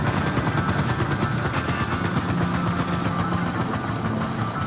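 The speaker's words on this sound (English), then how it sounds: "I'm gonna land our helicopter here" A video game helicopter's rotor thumps in a fast, steady rhythm over a loud engine whine as it lands, close and continuous.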